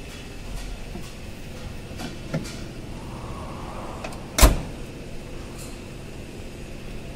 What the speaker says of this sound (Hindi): ठीक है, बंद कीजिए बोनट।